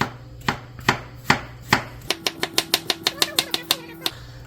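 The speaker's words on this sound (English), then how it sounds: "my wife is chopping up the potatoes" Knife chopping potatoes on a cutting board for a Zuppa Toscana soup, close and crisp: a few slow, spaced cuts, then a quick steady run of about a dozen even chops before a pause.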